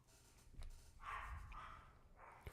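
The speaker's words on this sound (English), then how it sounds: "My dog loud right now." A dog barks at a distance indoors, a few short bursts across the moment, fairly faint against a quiet room.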